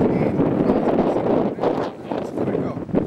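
Cold wind buffets a microphone at an outdoor youth football game, a steady broadband roar with gusty surges lasting throughout, loud and close.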